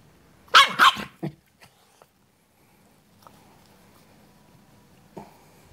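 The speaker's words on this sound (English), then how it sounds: "Who did you bark at?" Dog barking indoors, a quick burst of three or four close, loud barks at the start, then a soft yip and scattered faint sounds in a quiet room.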